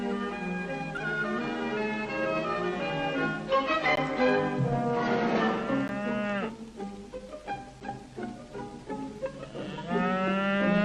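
A Friesian cow lowing in a sunlit field on an Oxfordshire farm, several long drawn-out moos one after another, close and clear, with no talk over them.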